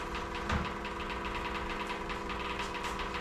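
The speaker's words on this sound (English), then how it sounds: "use the vehicle's fuel pump, and I'm pumping the tank down" A Toyota's own electric fuel pump, wired to a hooked-up power source, pumps the fuel tank down with a steady, close mechanical hum and buzz that runs unbroken without any talk.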